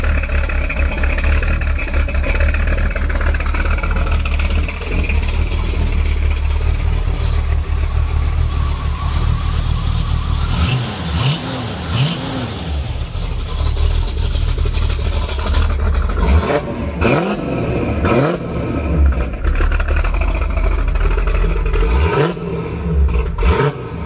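A 1977 Pontiac Firebird Trans Am's big V8 engine idles with a deep, loping rumble, punctuated by several sharp revs that rise and fall, close and loud.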